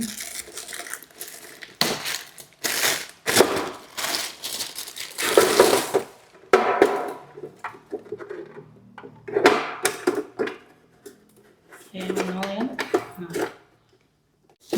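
Plastic packaging crinkling and rustling as an ice cube tray is unwrapped, with loud close crumpling bursts and rattles while a person talks.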